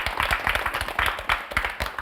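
A burst of clapping and applause from a crowd at a Tamil speech competition final, moderately loud and continuous, with no clear voices over it.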